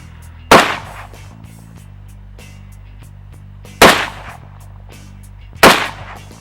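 Three sharp, loud AK rifle shots fired standing at 25 yards with an ALG trigger, spaced a few seconds apart, each a crisp crack with a short decaying tail over a low steady hum.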